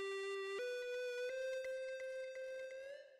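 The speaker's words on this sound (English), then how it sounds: "Then next I added this like lead run synth sound that sounds like this." A bright lead synth in FL Studio plays a dry, effect-free melodic run, one rising sustained line with quick articulated note changes, clear and alone with no voices over it.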